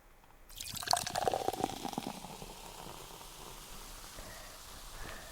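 Liquid is poured into a slime potion mix from a toy kit, starting with a bubbly, splashy gush that settles into a softer, steady trickle. The sound is close and moderately loud, with no talking.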